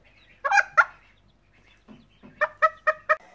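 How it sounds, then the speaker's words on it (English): A very protective mother hen with nine young chicks gives a couple of sharp, loud squawks, then a pause, soft low clucks and four rhythmic honking calls close by. "here is the surprise chicks with very protective mum and 9 of the babies"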